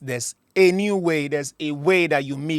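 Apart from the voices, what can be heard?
No distinct noise like a dog, phone or traffic.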